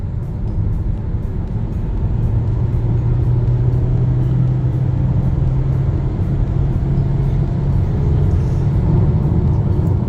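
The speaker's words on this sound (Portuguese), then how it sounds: "vou acelerar um pouco mais aqui." A 2021 Honda HR-V EX engine drones at a steady, loud pitch from inside the cabin while accelerating, holding a low continuous rumble with little change.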